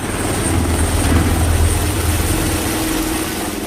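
An AW159 Wildcat naval helicopter of the Philippine Navy flies past with a loud, steady rotor and turbine drone that holds without a break, with no voices.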